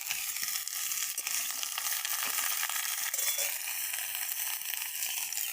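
Bottle gourd, green chilies and tomato land in a frying pan of lightly fried pointed gourd and papaya, giving a steady, close hiss of sizzling oil with faint stirring scrapes throughout.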